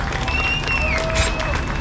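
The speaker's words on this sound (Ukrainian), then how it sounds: "Давайте аплодуємо, підтримуємо нашу." A crowd applauds and cheers at a drifting championship, a steady wash of clapping and crowd noise that stays dense and fairly loud throughout.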